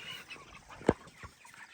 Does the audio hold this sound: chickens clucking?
yes